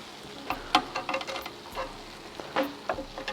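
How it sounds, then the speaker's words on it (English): Garlic chicken pieces sizzle in a pan, punctuated by soft scrapes and taps as rubber tongs flip them one after another, a close, moderately quiet frying hiss without talk. "We will take a rubber tongue and we will try to flip every single piece in here."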